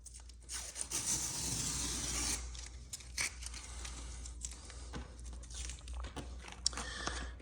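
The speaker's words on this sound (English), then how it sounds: "now we're going to cut along that green line" A blade cuts through grasscloth wallpaper along a marked line, producing faint scratchy rasping and crunchy rubbing sounds close by, with a steadier stretch early on and intermittent scrapes afterward.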